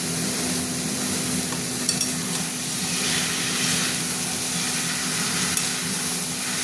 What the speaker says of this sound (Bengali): এবার মোচাটা দিয়ে দিলাম। মোচাটা দিয়ে একটু নাড়বো।